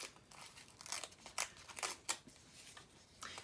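Tissue paper washi tape being ripped by hand for Christmas stickers: a run of soft, close, crinkly tearing bursts of varying length, quiet and without talking.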